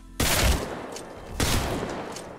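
Two sharp bursts of video game gunfire, the first hitting hard just after the start and the second about a second later, each trailing off into a rattling decay.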